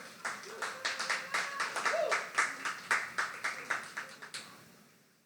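Poetry slam audience applauding a poet, a modest crowd clapping in loose, pulsing bursts, with a voice briefly heard over it before the clapping fades out.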